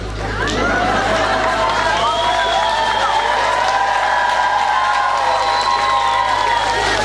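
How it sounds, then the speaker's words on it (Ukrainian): Crowd at a public event in Zolochiv cheering and applauding in a loud, sustained wash, with shouts and whoops rising above the noise. "Ви зараз аплодуєте"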